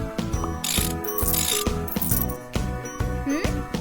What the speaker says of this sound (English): Put in the bolts.